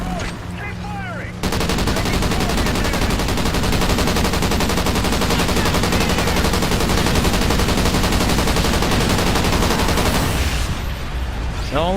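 A light machine gun in Call of Duty: Ghosts Extinction fires a long, unbroken rapid burst for about ten seconds, loud and dense with steady rattling, preceded by a brief quieter stretch.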